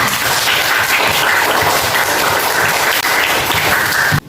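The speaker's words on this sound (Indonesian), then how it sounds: "Tepuk tangan buat Fata." A room of schoolchildren clapping in an Indonesian classroom, a loud, even burst of applause lasting about four seconds before it stops abruptly.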